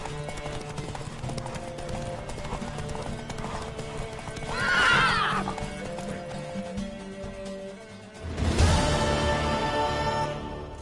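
Hooves clatter in a fast, steady gallop while a horse whinnies loudly partway through, over a busy layered backdrop of game sounds from The Witcher 3: Wild Hunt.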